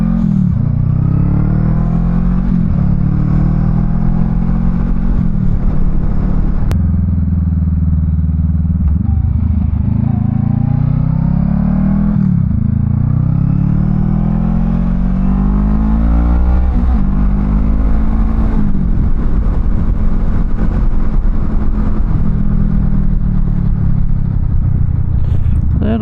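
A Honda Rebel 500 motorcycle cruises on the highway, its engine droning loud and close under heavy wind rush, with pitch rising and falling as it shifts and accelerates.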